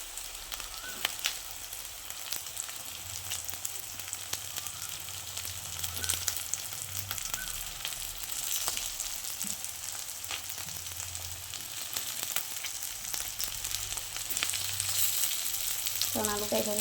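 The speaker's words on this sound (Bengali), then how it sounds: "এর মধ্যে এইভাবে আলুটা ভেঙে দিয়ে দেবো।" Potato broken up and frying in a pan for bread pakora gives a steady, fairly quiet crackling sizzle throughout, with occasional light clinks and scrapes of a utensil.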